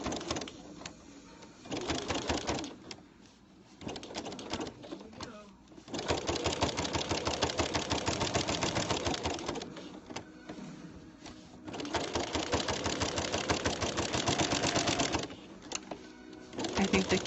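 A sewing machine stitches light cloth pads in long runs of rapid mechanical chatter, stopping briefly several times before resuming, close and fairly loud.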